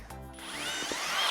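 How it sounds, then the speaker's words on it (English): Close, loud power drill boring holes in a high-heel roller skate, its motor spinning up with a rising whine that holds steady for about a second before stopping abruptly. "I'm just drilling these holes exactly like I showed you guys earlier"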